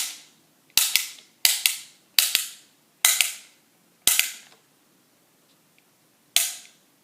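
A Bowslinger loom band launcher snaps off a rubber band again and again: sharp, close, loud cracks, several in quick pairs, then a longer pause before one last snap, with near silence between.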